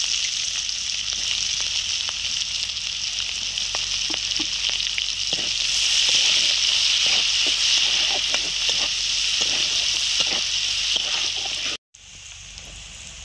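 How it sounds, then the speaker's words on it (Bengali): Onion frying in oil with cumin gives a steady, loud sizzle with faint stirring scrapes; the hiss holds close and continuous, then cuts out briefly near the end before resuming. "পেঁয়াজটা একটু ভাজা ভাজা হয়ে গেছে"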